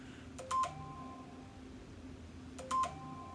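A mobile phone chimes twice during a quiet breathwork and sound healing session, each a short cluster of electronic beeps with a sustained tone trailing after, heard over soft background hum.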